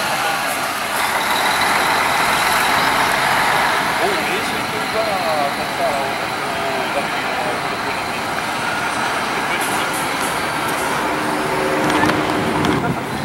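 A Marcopolo Paradiso 1050 coach bus of Piracicabana pulls into the Tietê bus terminal, its diesel engine rumbling steadily and loudly, with terminal traffic noise around and someone talking over it.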